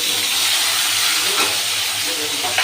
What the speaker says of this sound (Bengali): আলুর সাথে টমেটো আর বেগুনগুলো ভেজে নেব।